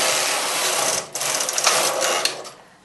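Knitting machine carriage sliding across the needle bed, a steady close mechanical whirring rasp with a brief break partway through before it runs on and fades.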